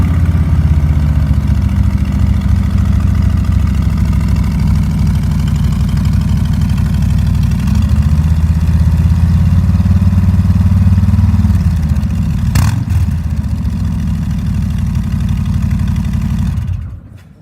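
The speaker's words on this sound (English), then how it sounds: "I'll fire that up for a second, then I'm going to shut that off" A Harley-Davidson Street Glide motorcycle fitted with Reinhardt mufflers runs at a loud, steady, close idle for most of the stretch, then cuts off abruptly near the end.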